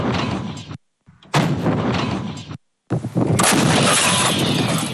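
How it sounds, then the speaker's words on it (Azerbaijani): Artillery fire during joint Azerbaijan-Turkey military exercises: loud, broadband booms and rumbling blasts in several bursts separated by brief silences, ending in sustained heavy roaring noise. "Canlı qüvvə və atəş vasitələrinə artilleriya zərbələri indirildi."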